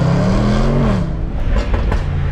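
A Range Rover SVR with a 5-litre V8 rumbles loudly from inside the cabin, a deep engine drone that rises in pitch briefly and then settles, with no talking.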